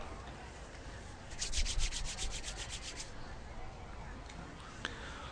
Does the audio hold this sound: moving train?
no